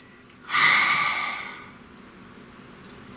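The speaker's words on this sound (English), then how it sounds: "Please take a nice deep breath." A single long, deep breath drawn in and let out slowly, close and airy, fading over a couple of seconds into quiet.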